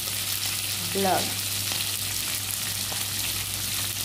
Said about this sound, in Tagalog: habang nagpiprito po ako